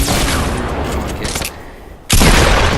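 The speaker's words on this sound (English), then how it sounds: "So I get him an RPG, shoot out this shot." An RPG rocket fires and explodes in Fortnite: a loud, sustained roaring blast, a brief quieter lull, then a sudden heavy boom that cuts in sharply near the end.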